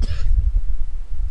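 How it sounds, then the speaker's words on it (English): A single short cough from a man giving a spoken lecture, one close, quick burst at the start followed by faint room noise. "And excuse me for that cough there."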